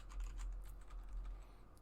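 Quick, faint keystrokes tap on a computer keyboard during a coding session, an irregular run of light clicks close to the microphone with no talking.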